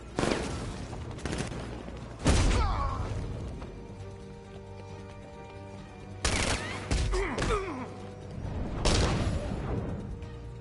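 Gunfire in the video game Batman: Arkham Knight, several bursts of rapid shots and bangs separated by quieter stretches of game ambience, fairly close and loud.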